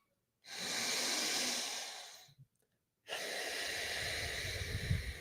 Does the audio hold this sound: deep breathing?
yes